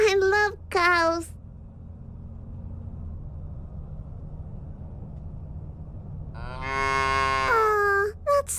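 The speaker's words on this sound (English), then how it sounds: "There's a bunch of cows on the field." Cattle in a field in the video game Little Misfortune low in a couple of drawn-out, close moos, one at the start and one near the end, with a quiet ambient bed between and some talking.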